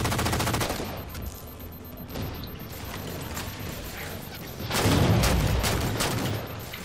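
Rapid gunfire in the sci-fi shooter Halo 4, loud bursts of automatic shots in quick rhythm, swelling again near the end over a busy battle background.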